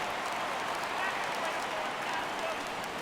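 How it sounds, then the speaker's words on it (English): Steady crowd roar and cheering from a baseball stadium in MLB The Show 17 as the count goes full with two outs to go, a dense continuous wash of noise lasting throughout without a break. "Crowd gets up for the 3-2."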